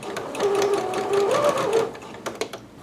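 A sewing machine runs in short bursts, stitching a garment seam over a basting line from a Simplicity 8448 pattern, its motor whirring steadily up close before stopping.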